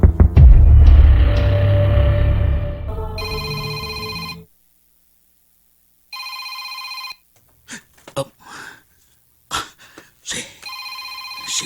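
An old-style telephone bell rings with an incoming call, repeated bursts of bright electronic ringing separated by silences, following a stretch of background music and brief talk.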